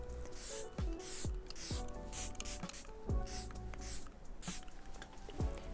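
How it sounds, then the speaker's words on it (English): Repeated short hisses of a makeup setting spray bottle, about a dozen quick pumps in an uneven rhythm, close and soft, with faint clicks between. "last but not least is Airbrush Setting Spray to keep all of our products on"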